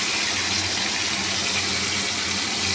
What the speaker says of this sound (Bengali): একটু আলুটা ফ্রাই করে নিচ্ছি।